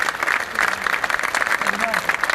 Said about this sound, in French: Charles Aznavour, je voudrais que vous applaudissiez, car c'était le plus grand de tous.